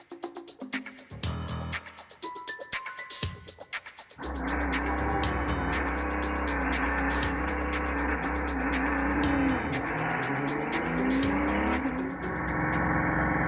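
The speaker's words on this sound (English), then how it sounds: "Will the Audi R10 TDI's engine run successfully from scratch?" An Audi R10 TDI diesel race car engine, run on a test bench, starts with a few clunks and mechanical rattles, then settles into a loud, steady, close droning roar with slight pitch shifts.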